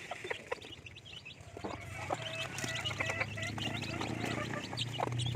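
Chickens clucking and calling in a coop, several birds heard close with scattered clucks and squawks over a low steady background hum.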